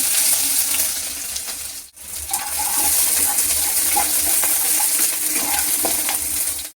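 Chopped onion sizzles loudly in hot mustard oil, a steady broadband hiss with small crackles and pops, briefly dipping near the two-second mark before resuming just as strong.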